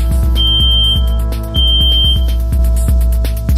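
A cabinet's audio-visual alarm, set off when its front air grill perforation is covered, gives a loud steady electronic beeping, repeating pulses over a continuous low hum of machinery.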